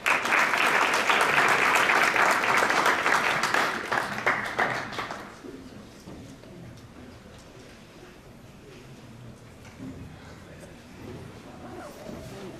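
An audience at a business school innovation contest gives a contest team a loud round of applause that fades out after about five seconds, leaving a quiet room with faint murmuring and a few stray claps.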